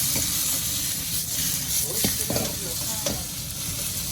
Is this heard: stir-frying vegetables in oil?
yes